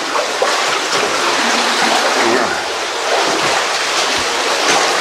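Water rushes steadily through a passage of an abandoned mine, a loud, continuous broadband wash with no pauses across the clip.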